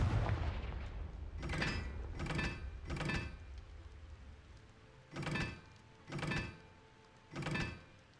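Confringo blasting spell explosions from a Harry Potter video game, six heavy booming bursts in two uneven clusters of three, each a sharp crack with a rumbling low tail over a steady background hum.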